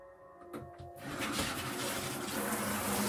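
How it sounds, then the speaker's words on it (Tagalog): Water rushes from a shower, starting after a few soft knocks and then running steadily and continuously at moderate distance in a quiet room. "Narinig ko ang tunog ng shower"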